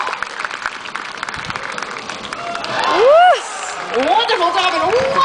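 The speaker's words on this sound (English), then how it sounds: "put those hands together, cheer her on" Audience at a sea lion show claps and cheers in a broad wash of applause, with an announcer talking over it and a whistle-like sliding tone rising midway.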